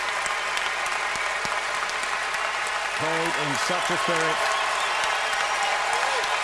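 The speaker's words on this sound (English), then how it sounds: "And the crowd are standing ovation." A large indoor crowd claps in a dense, continuous roar of applause at the final of a 1992 Brussels tennis championship, a commentator speaking briefly over it.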